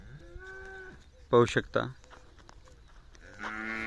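A Siddhapur line bull lets out a short, loud moo in a few bursts near the middle, with a person speaking quietly before and after on a farm.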